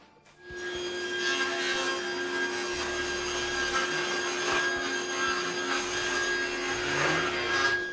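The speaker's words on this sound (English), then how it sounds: "I now want to take one of those framing strips and cut a 45 degree angle on it" A saw cuts a 45 degree angle across a wooden framing strip, a steady, continuous rasping drone that holds close and loud for several seconds with a constant tonal whine above it.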